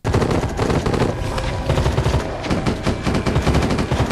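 Loud, close gunfire from The Walking Dead TV show, with rapid automatic bursts and repeated shots filling the whole stretch.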